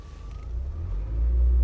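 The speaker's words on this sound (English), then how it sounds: "If you start to let the clutch out slowly" A manual car pulls away as the clutch is eased out and gas is applied, its low engine rumble rising steadily and growing louder with no talk over it.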